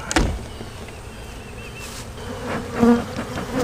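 Honeybees buzz in an opened hive during a pre-split inspection, a dense close hum from many insects with handling knocks of the hive boxes.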